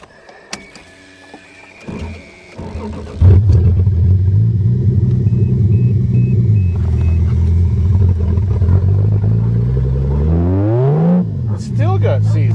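A 1982 Toyota Cressida with seized wheels starts up and strains to move, its engine rumbling loudly and steadily, then rising in pitch near the end as it revs. A person talks briefly.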